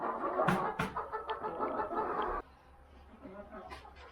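Hens cluck in short, busy bursts close by in a chicken coop, with a couple of sharper squawks early on, then the clucking fades to a quieter murmur.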